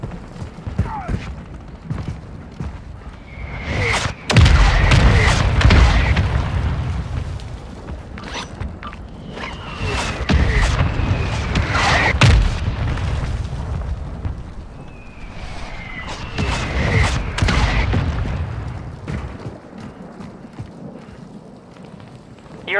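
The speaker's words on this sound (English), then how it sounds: "Hostile mortar strike in the area." A hostile mortar strike in Warzone 2 lands in several heavy explosive booms spaced across the stretch, each followed by a rumbling tail, with a game announcer voice in between.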